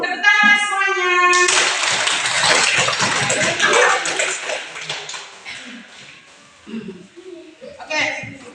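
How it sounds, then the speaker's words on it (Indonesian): In a classroom lesson everyone claps together. A voice comes first, then a lively burst of clapping that thins out, with children's voices around it. "Tepuk tangan semuanya"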